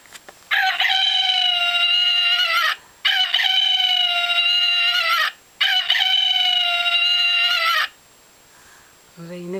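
An electronic rooster crow repeats three times in long, bright bursts with short gaps, close and loud, followed by a brief faint noise.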